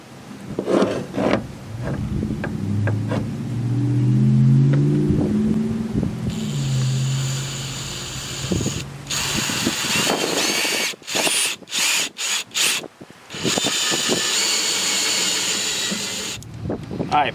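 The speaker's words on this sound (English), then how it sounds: "So I'm going to drill a hole through here." Cordless drill boring a hole through a ball for a homemade ladder golf yard game, heard as bursts of whirring and grinding with brief stops and restarts, close and fairly loud, with handling noise between bursts.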